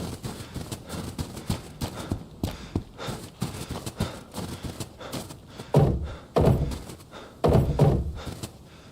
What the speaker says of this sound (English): your footsteps is quite loud